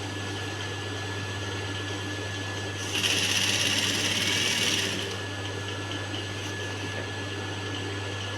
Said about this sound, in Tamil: இப்போ நம்ம நேராக வச்சு மிஷினில் வச்சு அடிச்சுக்கோங்க